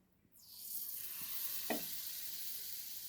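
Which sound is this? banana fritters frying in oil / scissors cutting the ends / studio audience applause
banana fritters frying in oil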